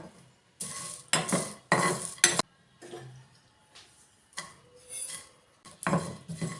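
Cardamom pods dry-roasted in a pan for a masala powder, stirred in short bursts. Crisp scraping and rattling strokes come close up, with brief pauses between them and no voice.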